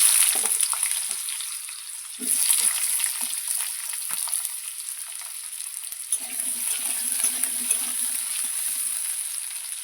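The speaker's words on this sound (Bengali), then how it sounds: "এই আলুগুলো ভালো করে ভেজে নেব।" Small cut potato pieces fry steadily in a pan for a chicken kosha dish, a constant bright sizzle with a few stirring scrapes and faint low clatter partway through.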